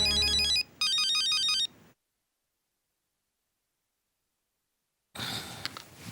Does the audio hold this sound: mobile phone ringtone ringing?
yes